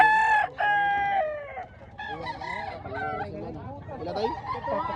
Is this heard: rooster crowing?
yes